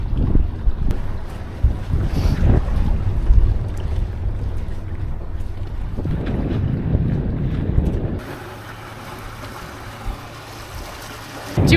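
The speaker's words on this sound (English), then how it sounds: "Engines off. We did it. I think we're actually sailing." A catamaran sails under wind alone with its engines off, its hull hissing through the water amid steady, gusty wind buffeting the microphone, with a brief lull in the middle.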